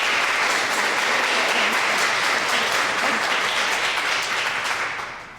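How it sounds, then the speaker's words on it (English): An evening audience at a World Homeless Day storytelling event claps for themselves in a dense, sustained round of applause that holds steady for about five seconds before tapering off at the end. "give yourself a round of applause for being here tonight"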